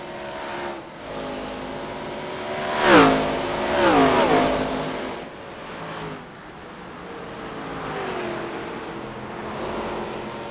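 ARCA late model race cars with V8 engines roar around Iowa Speedway, several cars sweeping past in turn with rising and falling engine notes, loud passes peaking then fading into a continuing track drone.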